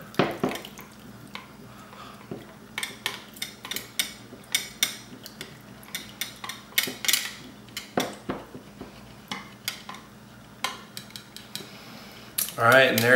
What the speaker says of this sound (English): to whisk this up a little bit